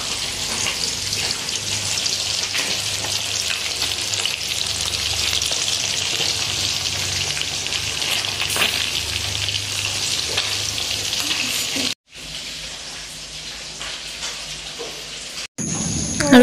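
Food fries in a pan with a loud, continuous sizzle close by that runs without talking and is cut by two brief breaks near the end.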